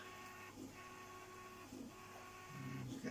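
A 3D printer prints end covers for a battery box, its stepper motors whirring in steady tonal runs with brief pitch-shifting moves, continuous and close with no talk.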